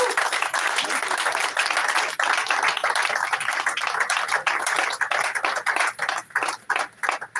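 Sustained applause from an audience at the commissioning ceremony for a new administrative building, dense clapping throughout that thins out with a few scattered claps toward the end.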